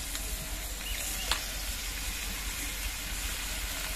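Banana flower paste frying in a pan with potatoes and ginger paste, giving a steady soft sizzle throughout with faint stirring scrapes and one brief clink, with no voices.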